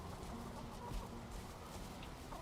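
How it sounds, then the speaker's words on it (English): Chickens in the video game Valheim clucking softly amid a dense, faint, steady background wash, with no talk over them. "Chickens! Hello. I can hear them."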